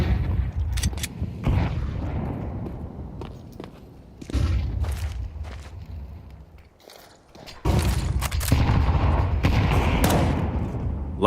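M4 rifle spam and grenade blasts in a Counter-Strike pro match, a series of sharp gunshot bursts and booming thuds with footsteps, rising loud near the end after a brief quiet gap.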